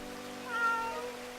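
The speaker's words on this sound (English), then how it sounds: "Hey, kitty cat." A cat meows once in the video game Eternal Sonata, a single short, moderately loud call rising and falling over a soft musical background.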